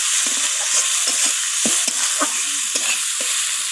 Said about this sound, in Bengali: আদা বাটাটা দিয়ে আমি একটু নাড়িয়ে চাড়িয়ে নিলাম আর দিয়ে দিলাম এখানে কেটে রাখা টমেটোটাকে